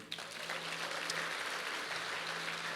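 A church congregation breaks into applause during a sermon, a fairly faint, steady wash of many hands clapping heard from some distance, with no voices over it.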